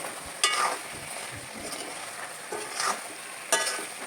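Salt being stirred into a village-style chicken curry in a pan, with soft scraping strokes and a faint sizzle, a few louder stirs standing out at intervals, close by and with no talking.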